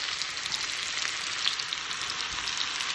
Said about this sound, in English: for the baghar, the tadka, just taking a handful of onions and some hot oil. Placing that in there.